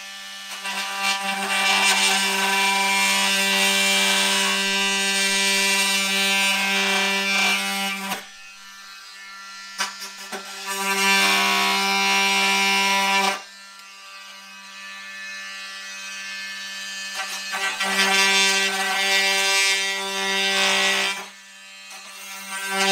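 A small rotary saw attachment cuts extensions off a PC-6 Pilatus Porter model airplane, a loud high-pitched whine with rasping bite, running in three long bursts separated by brief pauses.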